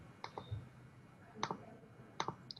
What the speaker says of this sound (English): I'm typing this down real quick.